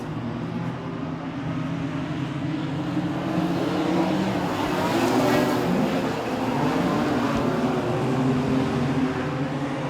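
Modified sedan race cars on the opening night at Kingaroy Speedway: a loud, continuous engine roar swells and fades as the cars sweep through a corner, with no talking.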